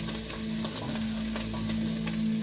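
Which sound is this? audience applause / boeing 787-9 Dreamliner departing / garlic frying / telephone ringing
garlic frying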